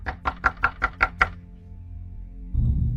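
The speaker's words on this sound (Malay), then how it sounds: "Ketuk-ketuk lagi." Seven sharp knocks on a toilet door in a quick, even series, loud and close, followed by a short pause and then a low rumbling thud.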